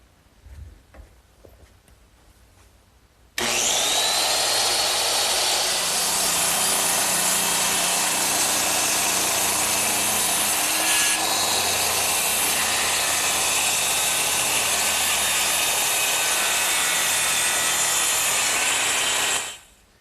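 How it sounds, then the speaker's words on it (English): A circular saw rips through wooden gable pieces clamped in a bench vise, starting abruptly after a few quiet seconds and running as one loud, steady, high-pitched whine for about sixteen seconds before cutting off. "I'm ready to cut them with my circular saw"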